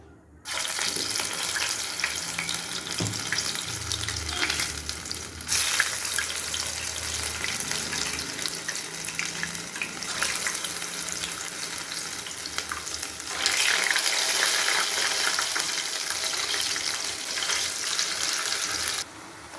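Small sweet bondas, balls of batter, frying in hot oil, a steady close crackling sizzle running throughout with a brief dip near the middle and a louder stretch toward the end, no talking.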